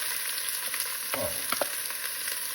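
Onions frying in a pan during home Indian cooking give a steady close sizzle throughout, with a few louder stirring scrapes near the middle.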